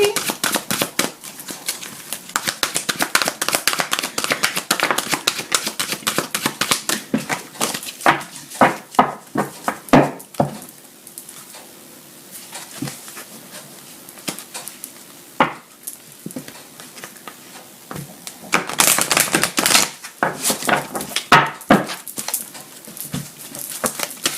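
Tarot cards being shuffled for a French reading, a long run of dense crisp riffling and slapping bursts with brief pauses between them, fairly close and steady.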